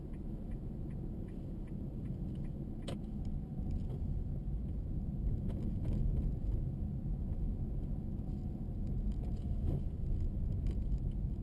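A car slowing to merge during a driving test near Vélizy-Villacoublay, heard from inside as a steady low engine and road rumble, with a few faint clicks and rattles and no talk.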